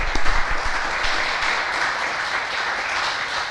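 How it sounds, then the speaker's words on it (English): Audience applause at a school's National Honor Society induction and awards ceremony, a broad, steady roar of many people clapping, fairly loud and sustained throughout. "Let's give them a big round of applause."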